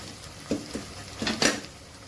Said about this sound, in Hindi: अच्छे से फ्राई हो गई है प्याज। तो अब इसमें डालूंगी मैं मसाले